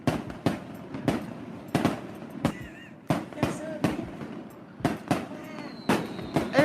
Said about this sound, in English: Oh, look at the fireworks.